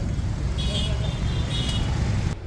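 Road traffic on a hot day, a steady low rumble of passing cars with a brief horn-like toot, heard continuously with a person talking over it.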